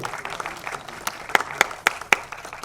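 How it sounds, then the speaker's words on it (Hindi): Audience claps for a guest at a music album launch, a light patter of clapping with several louder individual claps standing out near the end. "ये एक बार जोरदार तालियां कौशल जी के लिए।"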